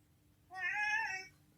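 A house cat gives one clear, drawn-out meow lasting about three-quarters of a second, close and fairly loud, over faint background hum, with no talking.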